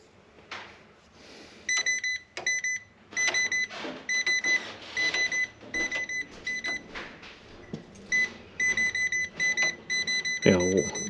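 A sensitive electrical tester beeps in repeated bursts at close range, its shrill pulses starting and stopping irregularly while a person talks underneath.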